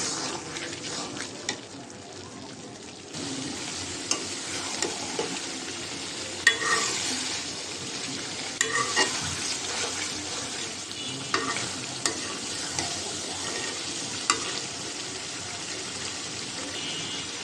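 Chicken stir-frying with ground spice paste in an uncovered pan, a continuous close sizzle with repeated scraping stirs and occasional sharp clinks of the spoon against the pot.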